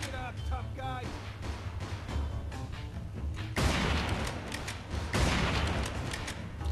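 Gunfire rattles in Mafia 2, dense bursts of shots and impacts cracking over a busy game soundscape, with two sharp louder volleys standing out partway through; a voice can be heard under the action.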